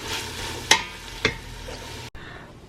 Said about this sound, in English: I'm just going to cook this longer until the onions are nice and tender